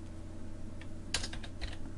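Computer keyboard typing sounds as a short burst of several quick key clicks, close and crisp over a low steady background hum, with no talk.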